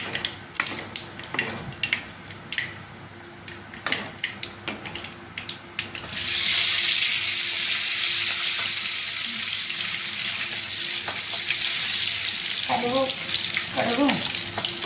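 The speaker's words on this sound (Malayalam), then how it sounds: "കടുകും ഉലുവയൊക്കെ പൊടിയുന്നുണ്ട്" Mustard and fenugreek seeds crackling in hot oil in a pan, first scattered sharp pops and ticks, then a loud continuous sizzle that swells and holds close by, with a brief voice near the end.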